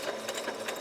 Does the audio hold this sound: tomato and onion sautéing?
no